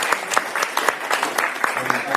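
Audience at a live real-estate podcast taping applauds its guests, a modest crowd clapping with distinct individual claps in a brisk, uneven patter, while voices talk faintly underneath.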